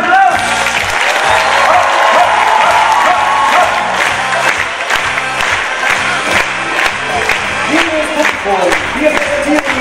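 Loud, sustained applause from a circus audience at a Koblenz Christmas circus, dense clapping with crowd noise and some cheering filling the full stretch, over music and a voice.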